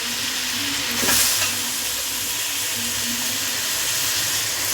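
Chicken fries in masala in a pan with a loud, steady sizzle and hiss throughout, a brief surge of spatter near the start.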